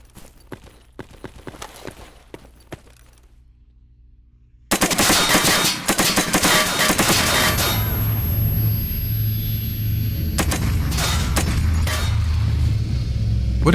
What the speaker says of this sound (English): I guess I do have to shoot them.